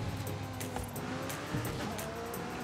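Car driving in Forza Horizon 5, a steady engine drone with road and tire noise and brief squeals, continuous and fairly close throughout.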